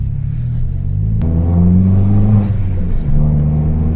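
A turbocharged Fiat 500 Abarth stage 3 engine with a TD04 turbo, about 270 hp, surges and builds as it accelerates, a loud steady rumble rising in pitch, heard from inside the car.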